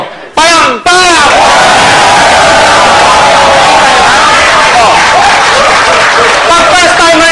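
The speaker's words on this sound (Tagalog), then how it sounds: "Lahat kayo ganyan pumalakpak" Seminar audience at a marketing plan presentation bursting into loud, dense clapping after a brief gap, mixed with whoops, cheers and yelling voices throughout, close and energetic.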